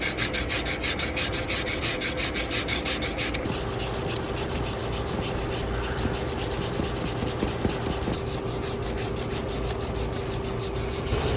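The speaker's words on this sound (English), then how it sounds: "I'm gonna go ahead and sand all of the copper piping that I'm gonna make cuts at." Copper piping on an AC system being sanded by hand, a steady, close scratchy rubbing that runs continuously with rhythmic strokes and no talk.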